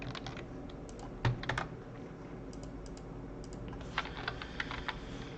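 Keys clatter on a computer keyboard in irregular bursts of close, crisp clicks, with one sharper keystroke and short pauses between the runs of typing.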